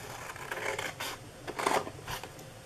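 Scissors snip through card while a tea box is cut out, giving a few short, crisp rasping cuts at close range, each lasting a fraction of a second with small pauses between.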